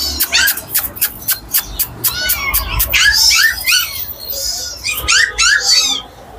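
A 4.5-month-old semi-Persian kitten at a busy Dhaka animal market gives a run of short, high mews close by, repeated in quick bursts over a noisy low background.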